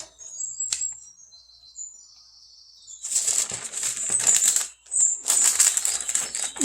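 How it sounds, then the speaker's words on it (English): Scissors snip and crinkle through the cellophane wrapping on a piece of junk mail, close and fairly quiet, with a few faint scrapes first and then two dense bursts of crackling plastic. "what I want to do is cut the cellophane"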